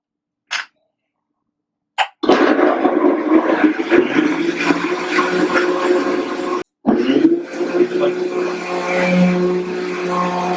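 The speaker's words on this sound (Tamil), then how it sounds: "சரி, நம்ம பிளெண்டர் ஆன் பண்றோம்." A kitchen blender switches on and runs loudly with a steady whirring roar as it blends a green smoothie of spinach and fruit, broken by one brief stop before it starts again. A couple of short knocks come just before the motor starts.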